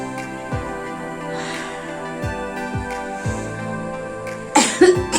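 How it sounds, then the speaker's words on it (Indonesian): A patient practises deep breathing and effective coughing: several slow breaths are followed near the end by a short burst of close, loud coughs. "Pertama tarik nafas dalam dulu 3 kali, kemudian dibatukkan."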